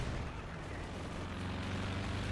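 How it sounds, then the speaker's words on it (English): Heavy rumbling barrage of explosions and gunfire from an aerial strafing run in the World War II strategy game Company of Heroes 2, dense and continuous with booming low end throughout. "You have a strafing run coming in."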